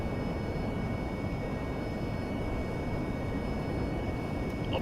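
A flight-game aircraft engine held at full throttle produces a steady, dense roaring drone with faint high tones, unchanging in level and close throughout, with no speech.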